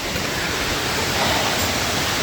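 River flowing in Martinique, a steady broadband rush of moving water, close and continuous throughout with no talking.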